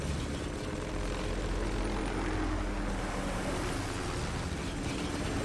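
Helicopters in the war video game Spec Ops The Line, a steady low rotor drone and whirring rumble that stays constant and fairly loud throughout, with no speech.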